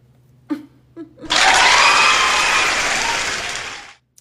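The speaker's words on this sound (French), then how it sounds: "Applaudissez pour moi." An audience claps at a French-language talk about Turo car rental, a dense burst of applause starting after two short sounds, sustained for about two and a half seconds, then stopping abruptly.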